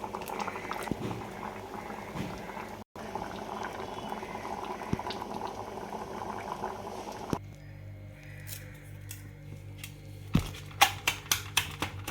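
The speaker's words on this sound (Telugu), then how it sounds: "కరివేపాకు కొత్తిమీర పప్పు ఉడుకుతుందండి" Lentil dal cooking with curry leaves and coriander bubbles steadily in a pot, a dense simmering burble that turns to sparse, louder pops and plops toward the end.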